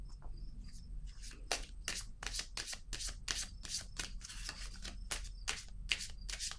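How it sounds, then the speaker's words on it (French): Cards snapped and flicked from a deck in a quick irregular series of sharp papery clicks, close and quiet, with a faint hum beneath and no voices. "Je vais piger une carte pour les trois ici."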